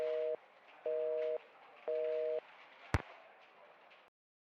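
Phone call audio in the video game Nancy Drew: The Phantom of Venice, three evenly spaced telephone busy-signal tones over faint hiss, then a single sharp pop before the line goes silent.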